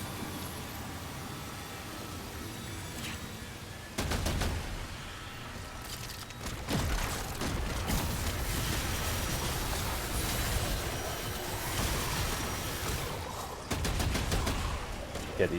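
Enemies in Remnant 2 keep up dense, sustained gunfire through most of the stretch, with rapid overlapping shots and several louder volleys that swell and fade, all at a fairly busy, continuous level.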